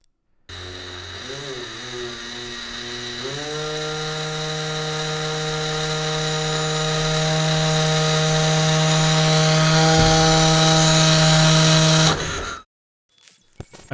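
Electric motor driven by PWM speed control in a P and PI controller setup, set between 0 and 160 RPM: a steady tonal whine with a buzzing hum that steps up in pitch early on, then holds level until it cuts off near the end.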